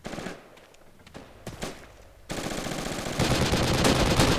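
Heavy .50 caliber machine gun fire in Battlefield 2: Project Reality, starting with scattered sharp shots and swelling into a dense, loud, sustained burst of automatic fire toward the end, with no talk.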